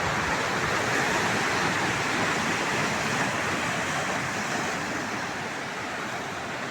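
Sea waves wash in at Hedvi beach on the Konkan coast as the tide rises, a continuous broad roar of surf that stays loud and even throughout, with no voices.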